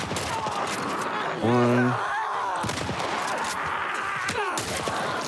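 Rifle gunfire in The Last of Us, with sharp shots and impacts amid game noise, a loud tonal hit standing out near the middle, while someone talks over it.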